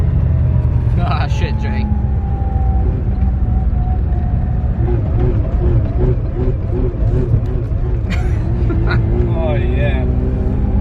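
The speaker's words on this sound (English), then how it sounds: "Taking the good old trusty RX-7." A Mazda RX-7 drives along with a loud, steady low engine and road rumble from inside the car, while people talk briefly over it.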